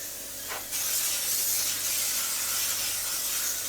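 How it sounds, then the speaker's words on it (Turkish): Cooking oil spray is sprayed onto a pancake pan: a short hiss, then a steady, close aerosol spray lasting about three seconds, alone with no talk. "Her yerini güzelce sprey yağı sıkıyorum arkadaşlar."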